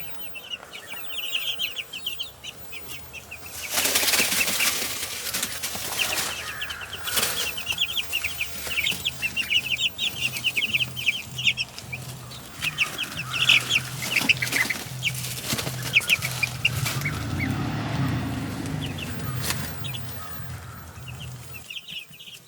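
A brood of baby ducks in a homestead coop peeps steadily in thin, high chirps while being fed, with rustling, pecking and wing-flutter noises close by throughout.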